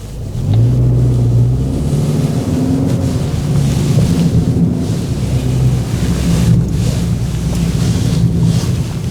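A Hyundai Sonata N Line pulls away on a test track with a loud, steady engine rumble that climbs as it accelerates, heavily buffeted by wind noise throughout.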